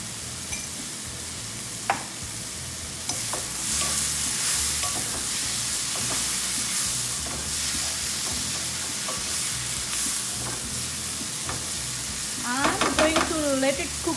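Paneer burji fries in a pan, a steady close sizzle overlaid with repeated scraping and stirring strokes, plus a short clatter near the end.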